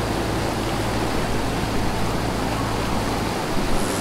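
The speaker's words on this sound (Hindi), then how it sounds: "पानी का शोर चेक करें और पानी का बहाव चेक करें" Powerful, unbroken rush of a fast-flowing glacial river near Minimarg and Domel in the Skardu region, a loud broadband roar holding steady throughout, close by.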